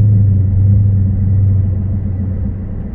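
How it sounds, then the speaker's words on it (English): A Dodge Charger's 6.4L V8, set to city mode, holds a deep, steady rumble at half throttle. The sound is loud and close for a few seconds and eases slightly toward the end, with no voices. "Now we're gonna change the setting to city mode. I'm gonna hit the throttle halfway."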